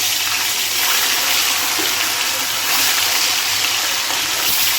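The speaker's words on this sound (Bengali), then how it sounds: "এবারে মাছগুলো ভেজে নেব।" Hilsa fish frying in hot mustard oil in a wok, a steady hissing sizzle that stays loud and even throughout with no voices.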